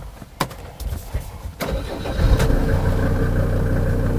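A 2001 SsangYong Musso 4x4 engine cranks briefly, catches, and settles into a steady, rumbling idle, close by with a faint turbo whine over it.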